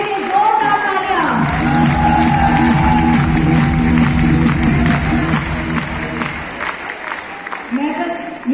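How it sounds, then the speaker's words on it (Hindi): Large stadium crowd at an organic products event in Delhi claps and cheers loudly and steadily for about eight seconds, the broad roar of applause running continuously under a prominent voice speaking over the noise. "सबके लिए जोरदार तालियां"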